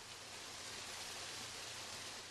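An artificial waterfall beside a hospital gives a steady, even wash of falling water that stays constant and unbroken throughout, soft and with no voices.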